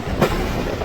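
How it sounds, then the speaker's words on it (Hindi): A train rolls nonstop through Gangrila railway station in rainy weather, heard from inside an economy-class coach as a loud, steady rumble with faint rail clatter and no speech. "इस वक्त हम नॉन-स्टॉप पास थ्रू हो रहे हैं गंगरीला रेलवे स्टेशन से"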